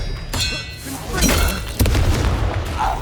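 A Confringo blast from Hogwarts Legacy lands as a deep booming burst with crackling debris, then a second heavy thud-explosion follows partway through, loud and close amid game combat noise.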